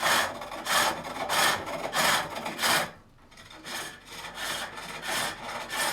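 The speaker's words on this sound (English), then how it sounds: "I can actually plunge a tool right through and just, it'll be a ring" Rhythmic strokes of a turning tool cutting wood on a pole lathe while a lidded box is turned, each cut a loud, close, scraping burst repeating about twice per second, with a brief pause partway through before the strokes resume.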